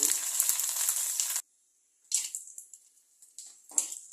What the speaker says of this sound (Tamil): இன்னைக்கு இது வத்தல் வறுத்துட்ருக்கேன்